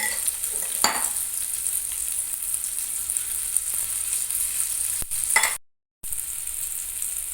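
Bread omelette toast fries on a low gas flame, a steady close sizzle broken by a couple of sharp spatula scrapes and stirs, with a short silent gap near the end.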